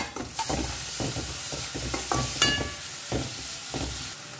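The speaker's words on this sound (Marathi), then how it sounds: "आतां हांव घालता पालक" Spinach is being stirred and fried in a pan, giving a run of rhythmic scraping strokes over a soft sizzle at close range, with no talking.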